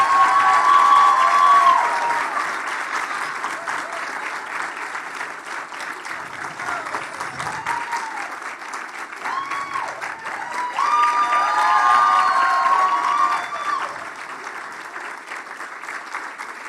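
A crowd at an occupational therapy pinning ceremony breaks into long, thick applause mixed with cheers and whistles, swelling at the start and again partway through.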